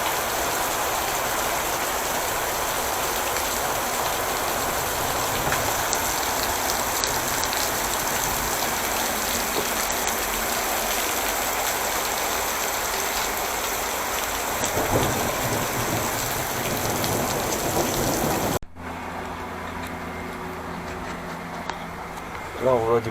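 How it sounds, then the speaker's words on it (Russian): Heavy rain pours down steadily for about eighteen seconds on a rainy day in Sichuan, China, a dense continuous hiss, then cuts to a quieter scene with faint background sound. "Какой ливень пошел-то."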